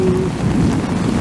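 Heavy rain pours in a dense, steady roar of water hitting surfaces, continuous and loud as the sky darkens during a sudden downpour.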